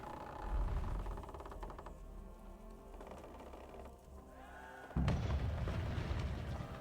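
A cannon booms in Kingdom Come: Deliverance, a sudden loud blast near five seconds over a low rumbling game backdrop with clattering ambience before it.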